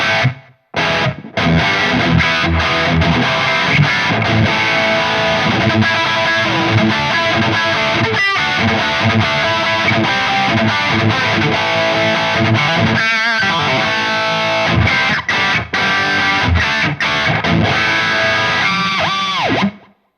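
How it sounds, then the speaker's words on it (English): An electric guitar plays a continuous distorted passage through a stereo 80s-style pedalboard with a touch of delay and reverb, loud and close, with a few brief gaps. "you get a tiny little bit of delay and reverb"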